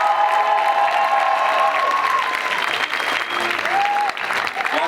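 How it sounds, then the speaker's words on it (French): Audience applause for the actors of a 2023 FSM student revue, a dense, loud wash of clapping with some cheering that carries steadily throughout and thins slightly near the end. "Tonnerre d'applaudissements pour tous les autres acteurs"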